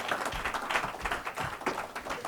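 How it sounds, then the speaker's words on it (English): Audience applause for a speaker at a Heartland Institute event, a steady wash of many hands clapping at moderate loudness throughout. "So give Alex a round of applause."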